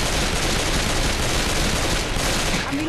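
Sustained automatic gunfire in Left 4 Dead 2, a loud, dense and unbroken rattle of rapid shots filling the whole moment.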